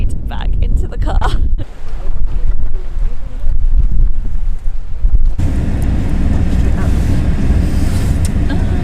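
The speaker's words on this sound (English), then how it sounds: "the wind is definitely making things very cold" Strong wind on one of the UK's Nordic islands buffets the microphone in loud, gusty rumbles, then settles into a steady, blustery roar.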